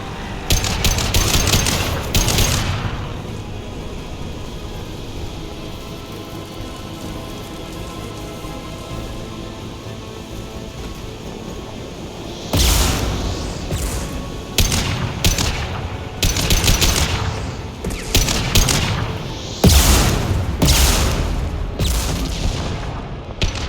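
Gunfire in the video game Mass Effect 2, dense rapid bursts that clatter loudly at the start, fade into a steady roar, then return in sharp repeated volleys toward the end.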